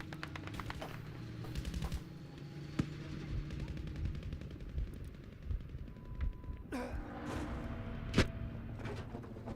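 Sniper and other gunfire in the video game Battlefield 5, repeated sharp shots and bursts across a busy battlefield mix, moderately loud, with a brief sliding or mechanical rumble near the end.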